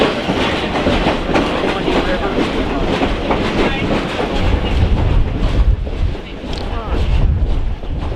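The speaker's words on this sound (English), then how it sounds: "The train continues to run." A train rumbles past through Verde Canyon, steadily with rhythmic clickety-clack of wheels on rails, loud and close, continuing throughout without letup.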